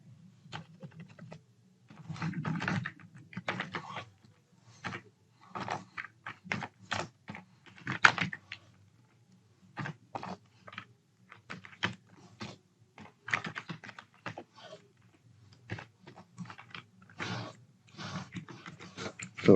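Fingers type code on a computer keyboard, rapid close clusters of key clicks in irregular bursts separated by short pauses, with no talk.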